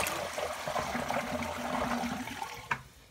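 A Kohler Wellcomme toilet being bucket flushed, water rushing and gurgling steadily into the bowl, moderately close, then a brief splash near the end with no talking.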